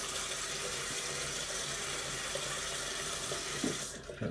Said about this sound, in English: We'll wet the face. And here in cold water is the way to go.